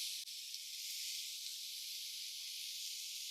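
Vegetables sautéing in butter give a steady, soft sizzle and hiss that runs evenly throughout, with a faint tick near the start.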